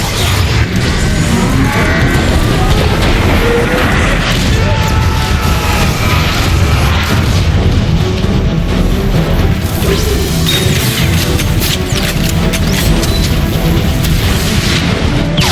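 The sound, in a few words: rocket explosions in Transformers: Fall of Cybertron video game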